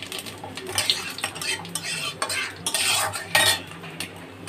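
Whole fennel, bay leaf and dried chili crackle in hot oil with clinking metal spoon stirring against a pan, busy and close, with no talking.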